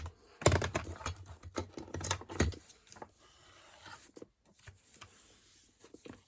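A bone folder is rubbed and pressed over a large sheet of book paper, giving close, irregular bursts of dry scraping and tapping, busy at first and then sparser and fainter.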